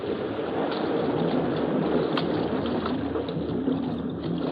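A continuous low engine drone with a broad rushing hiss, like a boat motor running steadily over water, no voices.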